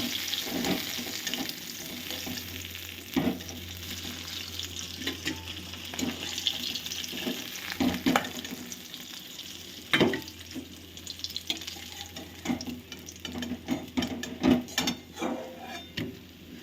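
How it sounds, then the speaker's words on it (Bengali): Low, steady sizzle of bata fish frying in oil, with occasional sharp clinks and taps of utensils, fairly quiet and continuous, no voices. "বাটা মাছগুলোকে আমি ভালো করে ভেজে নেব"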